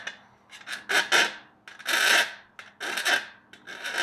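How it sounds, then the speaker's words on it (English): Hand file rounding off sharp edges on a Zenith CH 650 aluminium tail rib, with several close, loud rasping strokes of varying length and brief pauses between them. "So I like to take a file and file those."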